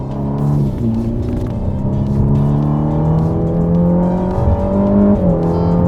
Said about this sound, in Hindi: हर बार जब आप इसका इंजन को रेव करते हैं, कुछ इस प्रकार।